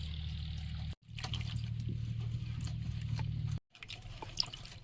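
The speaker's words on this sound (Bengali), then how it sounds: "প্রয়োজন মতো জল দিয়ে দিচ্ছি" Water poured into strained ground mustard paste for a pabda fish curry, a steady close trickle and splash of liquid with two brief breaks where the flow stops and restarts.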